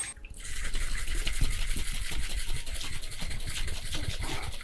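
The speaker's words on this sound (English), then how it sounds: "I'm gonna give it a dry shake" Cocktail with egg white dry shaken in a shaker without ice, a steady close, dense rapid sloshing and rattling that runs continuously after a brief start, with no talking.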